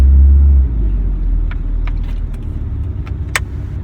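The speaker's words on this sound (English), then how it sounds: "I'm just enjoying driving this car." A 1989 Nissan 180SX RS13 with an automatic gearbox drives through New York City at night, its engine a steady low rumble from inside the car with a few faint clicks and rattles.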